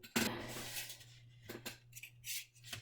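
Scissors trim a sheet of paper down to 8.5 inches wide so it fits a printer: one crisp snip at the start, then a few quieter, quick cuts spaced apart in a hushed room.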